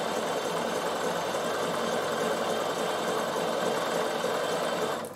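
A Bernina sewing machine stitches steadily around a soft curve while couching wool felt for a door stop, giving a close, continuous motor whir and needle clatter at an even level with no voices.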